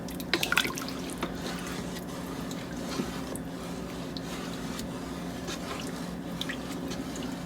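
Liquid, water or broth with beef bouillon, is poured into a pot of French onion mixture, giving a steady wet drip and trickle with a few brighter splashes over a constant low background hum, with no talking.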